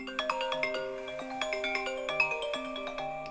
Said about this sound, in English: Hold on, let me answer this phone call.